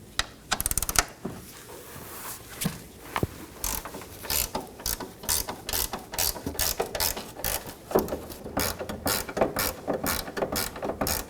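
A ratchet wrench backs out the last bolt on the front strut assembly of a 2015-2023 Nissan Maxima, giving rapid, close metallic clicking in irregular bursts with short pauses between strokes.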